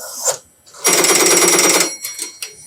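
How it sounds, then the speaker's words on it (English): Telephone ringing signal heard on an old exchange line after dialing 369: a short buzz, then one long loud ring burst of about a second, followed by fainter broken ring fragments. "And then you get the ringing signal"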